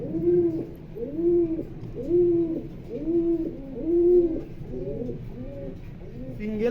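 Racing pigeons coo close by in a steady series of about seven soft, rounded, repeating calls, evenly spaced, with nobody talking over them.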